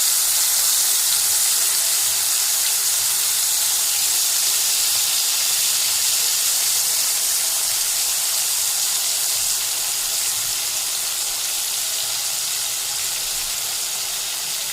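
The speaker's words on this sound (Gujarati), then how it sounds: "પાણી ઉકળવા માંડ્યું" Water heating in a pot for a stuffed bitter gourd and onion curry: a loud, steady broadband hiss and rushing bubble noise hold close and even throughout, with no voices.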